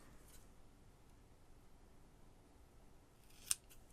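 Scissors give one crisp, close snip while cutting a cheap piece of lace in half. The snip comes near the end of an otherwise quiet stretch.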